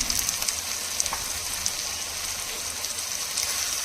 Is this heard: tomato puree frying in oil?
yes